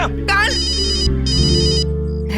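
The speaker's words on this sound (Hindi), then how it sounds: "बॉस का फोन है।" Electronic phone ringtone plays loud and steady in repeating pulsed bursts, with a low musical backing underneath and a brief voice-like sweep near the start.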